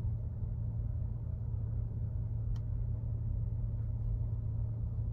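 A car rolls through a curve during a first driving lesson, its engine a steady low rumble inside the cabin with a faint click partway through and no talking.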